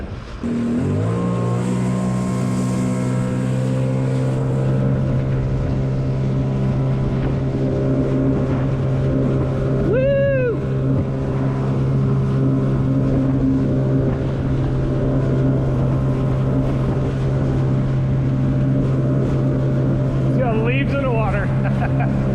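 Sea-Doo Spark personal watercraft engine running steadily on a lake near a dam on a cool day, a loud continuous drone that holds throughout with small shifts in pitch, close and unbroken.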